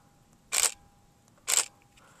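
A camera shutter fires twice, two crisp, sharp clicks about a second apart against near silence with a faint steady hum underneath.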